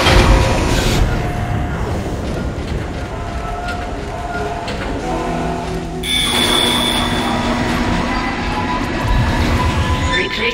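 A tram in the sci-fi horror game Dead Space rumbles and rattles loudly along its track, with a steady metallic roar and squealing tones that shift partway through.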